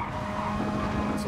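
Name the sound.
race car tires squealing in video game GT Sport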